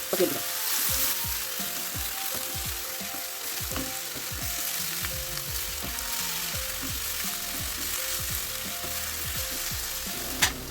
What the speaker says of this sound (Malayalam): നന്നായിട്ട് ഇളക്കി അതിൻ്റെ പച്ചമണം മാറുന്ന വരെ ഇളക്കി യോജിപ്പിക്കാം.